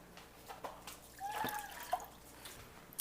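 Quinoa and water poured into a skillet, with a soft close trickle and a few light drips and splashes, quiet and alone.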